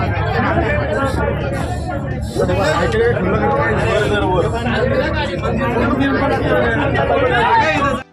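A dense crowd chatters and murmurs at the Bhima Koregaon Shauryadin gathering on 1 January, an unbroken babble of many voices close around throughout.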